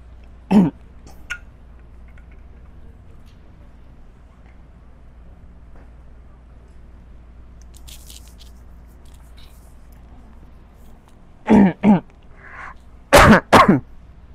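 A few short, sharp coughs and throat clears from a pastor during a sermon come in bursts, one early and a cluster near the end, separated by long quiet stretches.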